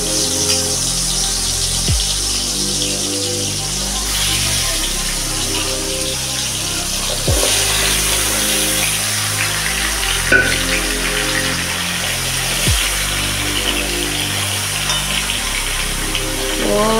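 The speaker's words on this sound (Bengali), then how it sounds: "তো এবার আমি এই আমগুলোকে এই তেলে ছাড়বো।" Mango pieces for a sweet-sour-spicy mango pickle frying in lightly heated oil over a low gas flame, with a steady close sizzle and a few sharp clicks and knocks of a utensil against the pan.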